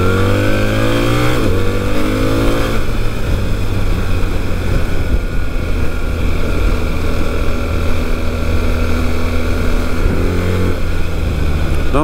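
A BMW 1300 GS adventure motorcycle accelerates under steady, loud engine drone with rising harmonics and wind rush, continuous throughout with no talk.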